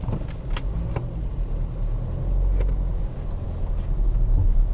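A tractor drives past on a rural road, a low engine rumble that swells and stays loud in the middle, heard with wind buffeting and a few sharp knocks nearby.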